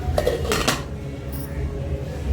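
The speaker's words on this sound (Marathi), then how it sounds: "झाकून ठेवूया" Metal lid set onto a cooking pot of tomato masala for Indian-style pasta, a few close clattering knocks early on that settle into a steady background hum.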